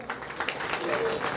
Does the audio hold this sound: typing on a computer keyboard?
no